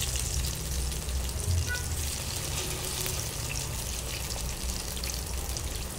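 Marinated dhoma fish frying in a pan with garlic gives a steady, close, broadband sizzle that holds evenly throughout, with no voices.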